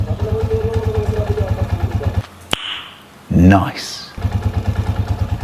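A Kawasaki TMX155 motorcycle engine after an overhaul, idling with a close, loud, steady rhythmic chug that stops briefly while a person speaks, then resumes.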